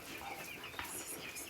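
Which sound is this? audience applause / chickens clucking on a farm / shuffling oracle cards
chickens clucking on a farm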